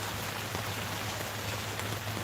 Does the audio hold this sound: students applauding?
no